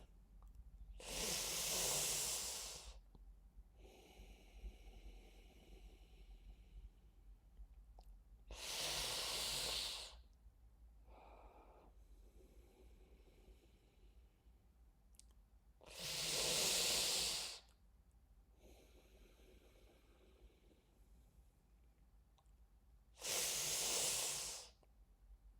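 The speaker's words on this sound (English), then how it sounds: "making the mouth into an O, tongue behind the back of the front teeth. And breathe out. Just do a few of these in your own breath." Four slow, strong hissing breaths drawn in through the teeth in a Sitkari breathing exercise, each lasting about two seconds and spaced several seconds apart, close and breathy, with softer exhales between them.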